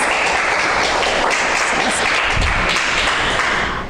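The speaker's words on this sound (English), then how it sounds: "another round of applause" An audience at a springtime renewal gathering bursts into loud, sustained applause, a dense continuous wash of clapping that fills the room and tails off slightly at the end.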